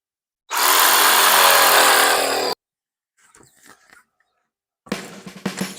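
Power saw rips through a gate cross brace piece in one loud, sustained whine of about two seconds, then stops; quieter handling knocks follow, and another burst of tool noise starts near the end.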